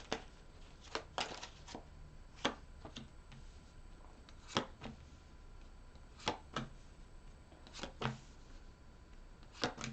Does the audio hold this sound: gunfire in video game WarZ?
no